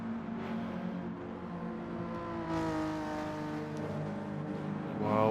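Race cars in a racing video game pull away from the start in a rising engine whine, several motors layered together, climbing in pitch and getting louder toward the end, with no talk.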